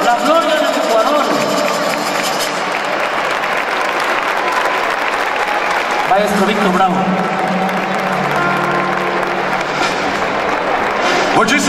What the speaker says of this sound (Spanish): Un aplauso para mi padre, don Gonzalo Godoy